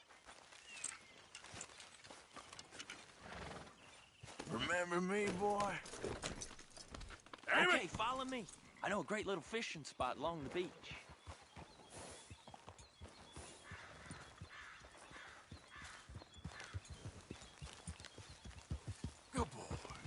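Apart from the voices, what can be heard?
horse hooves clip-clopping in a video game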